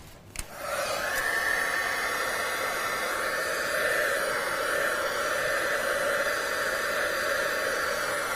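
A heat tool switched on and blowing hot air over craft ink, a steady loud whooshing whine held for several seconds after a click, with a brief spoken word at the start.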